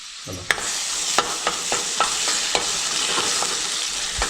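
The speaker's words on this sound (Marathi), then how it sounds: "आता ह्याच्यात थोडंसं खोबरं लाल झालं" Grated coconut fries with masala in a pan, a steady close sizzle broken by repeated sharp scrapes of a spatula stirring at a regular pace, with no speech.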